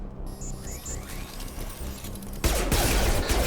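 Enemy gunfire in the video game Mass Effect 2, first as a distant crackle under the game's ambience, then a sudden loud, dense burst of shooting that holds to the end.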